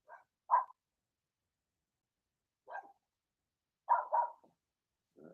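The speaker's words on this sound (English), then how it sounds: "They're doing what dogs do, and it's bark." Several dogs bark in short scattered bursts, a single yap followed by a pause and then a quick double bark, heard alone against silence at moderate distance.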